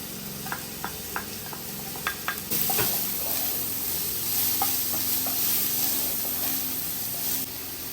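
Chopped onion sizzling in olive oil in a frying pan, steady loud frying hiss with sharp scraping clicks of a stirring utensil scattered throughout.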